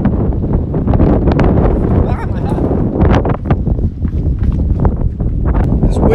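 Strong wind buffets a microphone outdoors in the seaside town of Termoli, Italy, a loud continuous rumble with gusty bursts throughout while someone speaks under it.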